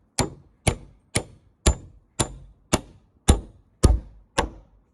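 A hammer drives a bolt through a drilled hole in a barn rafter being rebuilt: nine sharp metallic clangs at a steady, even pace, close and loud, each ringing briefly before the next strike, with no talking.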